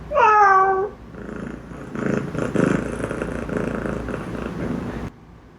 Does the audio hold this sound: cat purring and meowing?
yes